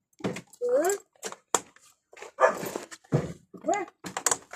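A dog barks and whimpers in short bursts nearby, with a few yips, while people talk in between.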